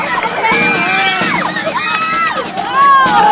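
Cheering squad shouting and whooping for a teacher during a Thai TV game show stunt with a giant balloon on the head, a steady loud crowd roar with high excited shrieks sweeping up and down, over a host's fast commentary.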